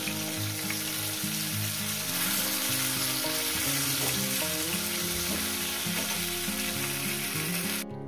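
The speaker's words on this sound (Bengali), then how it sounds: "এটা একটু কম ভাজা হয়েছে, এটা একটু ভেজে নেব।" Pabda fish fry in oil in a pan, making a loud, continuous crackling sizzle close up that holds steady throughout, with background music underneath and a brief drop at the very end.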